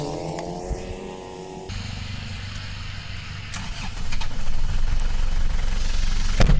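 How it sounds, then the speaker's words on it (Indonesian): An Isuzu Panther 2.5 diesel with the 4JA1-L engine in a 2012 LV manual runs steadily at close range, a continuous rough diesel drone that grows slightly louder in its second half. "Kita langsung aja cek sound dulu untuk bagian mesinnya"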